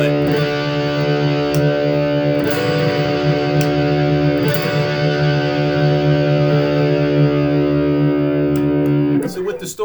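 A PRS SE CE 24 Standard Satin or Epiphone Les Paul Traditional Pro electric guitar on its bridge pickup, not coil-split, rings out a sustained distorted chord, loud and steady, with a strum near the end.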